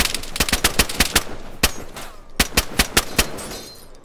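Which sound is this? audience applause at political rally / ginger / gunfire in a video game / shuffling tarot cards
gunfire in a video game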